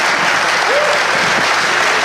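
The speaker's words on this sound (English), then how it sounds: "Amy Klobuchar, give her a round of applause" A crowd at the Selma presidential candidates forum applauds Senator Amy Klobuchar with a steady, full wash of clapping throughout, with no voices rising above it.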